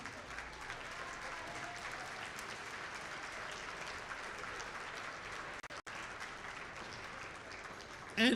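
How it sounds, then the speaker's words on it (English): Audience applause at a robotics district competition event in Dalton, a sustained, fairly distant crowd clapping throughout with a brief dropout near the end. "So if we can give them a round of applause,"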